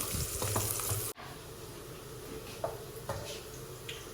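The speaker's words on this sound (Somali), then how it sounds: "basasha xoogaa inay shiilmataan jeclaanayn" Onions frying in a pan for a Somali tomato sauce, a steady close sizzle with a brief cut partway through and occasional soft utensil taps.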